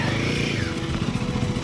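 A motorcycle engine runs steadily with a low, continuous rumble while the bike is being hauled out after getting stuck at the edge of Pangong Lake in the Himalayas.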